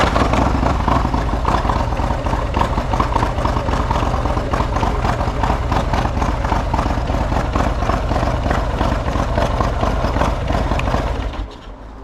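A Harley-Davidson Street Glide bagger, converted to Road Glide style, idles steadily with a dense, even lumpy rumble close by for the whole stretch before cutting off abruptly at the end.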